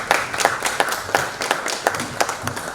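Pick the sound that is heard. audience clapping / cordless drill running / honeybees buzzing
audience clapping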